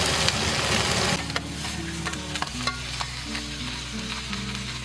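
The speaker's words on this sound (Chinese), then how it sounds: "再把这一个料头放上去，翻炒10分钟就可以" Chicken with sand ginger being stir-fried in a wok after a splash of rice wine, giving a loud continuous sizzle, then steadier frying with scraping stirs in an uneven rhythm, close by and with no talk.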